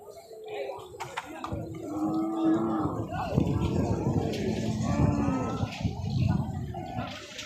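Cattle at a busy rural cow market near the border, with moos and lowing amid a steady crowd murmur and people talking close by throughout.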